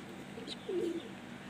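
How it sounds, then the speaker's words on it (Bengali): A red Madras female pigeon gives a soft, brief low coo, faint and close, over quiet background hiss. "লাল ম্যাড্রাস ফিমেল পিজন বন্ধুরা"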